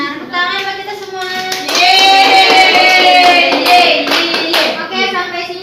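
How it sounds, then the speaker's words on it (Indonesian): A micro-teaching class in Qur'an and Hadith studies bursts into loud, rhythmic clapping. Children's voices shout and cheer over the claps throughout. "Tepuk tangan buat kita semua."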